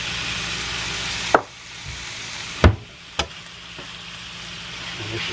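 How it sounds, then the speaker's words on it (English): Beef searing in a hot pot with black pepper, giving a steady broadband sizzle punctuated by a few sharp clanks and knocks of utensils against the pot. "this is going to sear out really fast"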